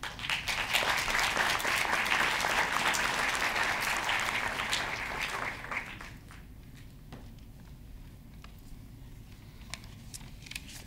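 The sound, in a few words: applause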